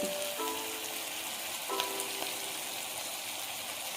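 Oil frying for moong dal khichdi in a pan before ginger garlic paste goes in, a steady soft sizzle with faint crackles throughout, fairly quiet and even.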